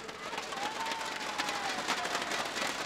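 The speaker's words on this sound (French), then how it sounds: "Chers étudiants, il faut les applaudir." Students in a crowd at a university graduation ceremony applaud the school's partners. The clapping is dense and steady and runs the whole time, with a faint tone drifting above it.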